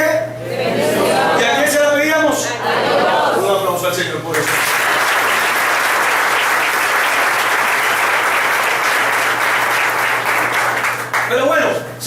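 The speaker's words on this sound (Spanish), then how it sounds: "Un aplauso al Señor por eso." A church congregation breaks into sustained applause after a stretch of talk, clapping steadily and loudly for about eight seconds before fading.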